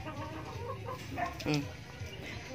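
A chicken on a small backyard farm clucks in short, quick bursts while pecking at a dog, heard close against a steady background of noise.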